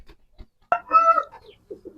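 A pale chicken sick with jaundice gives one short, throaty cluck-like call up close, with soft scattered clucks and rustles before and after.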